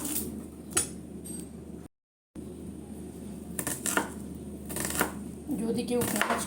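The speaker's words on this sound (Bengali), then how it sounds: "পেঁয়াজটা কেটে নিই" An onion is chopped with a knife in a home kitchen while making pakoras: irregular sharp taps and clicks of the blade on the board, close and fairly faint, with a brief silent gap partway through.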